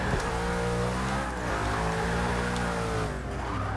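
Ford GT engine in Forza Motorsport 6, bagged Gas Monkey Garage build, revving loud and close with a steady harmonic drone rising and falling through gear changes, alone without voices.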